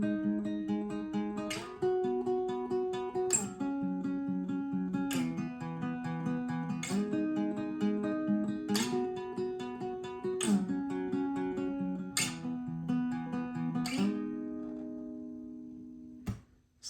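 An acoustic guitar plays the intro of a song at regular speed, a repeating picked pattern with strong strums every couple of seconds, close and clear, ending on a ringing chord.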